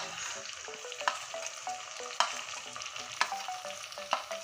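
Garlic paste and chili paste hit frying onions for a soybean and potato curry, giving a steady hiss and crackle with sharp stirring clinks at intervals, close and continuous with no talking.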